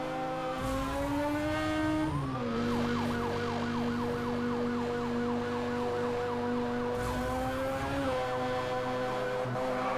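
Police siren in the Need for Speed Hot Pursuit Remastered racing game on Nintendo Switch, wailing loudly and continuously over a roaring car engine, its rising and falling sweeps repeating steadily through the whole stretch.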